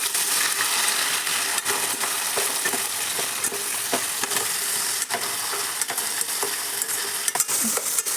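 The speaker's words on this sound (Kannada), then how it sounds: "ಈಗ ನೋಡ್ರಿ ಅಷ್ಟು ಫ್ರೈ ಆಗುತ್ತೆ" Onion, tomato and green chillies frying in a pan, a steady close sizzle with frequent scraping and clinking stirs throughout, no voices.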